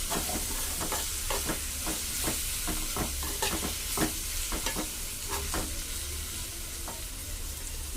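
Ginger garlic paste fries with onions in a pan, a continuous sizzle punctuated by repeated stirring scrapes of a spoon, close and clear with no talk.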